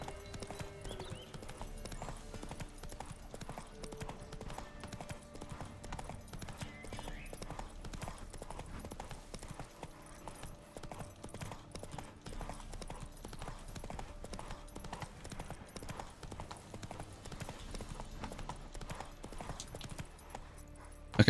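In-game horse Roach's hooves keep up a steady, rapid clip-clop across the whole stretch, with a player's voice occasionally talking over the trotting.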